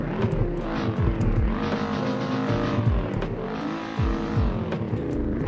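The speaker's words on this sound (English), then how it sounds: "And it makes a noise when it spits flames." Close, loud revving of a Lamborghini Urus SUV engine, with sharp crackling pops from the exhaust as it spits flames, in two or three bursts separated by short drops in the roar.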